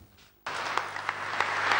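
Warm applause from cardinals greeting Pope Benedict XVI on his final day as pope breaks out suddenly after a quiet moment and continues as dense, sustained clapping from a crowd indoors.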